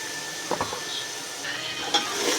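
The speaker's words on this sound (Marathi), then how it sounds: "आलं लसूणची पेस्ट पण छानपैकी फ्राय झाली" Ginger garlic paste frying in hot oil over onions browned to pink, a soft steady sizzle with a few stirring scrapes and light clinks from the pan, close and alone.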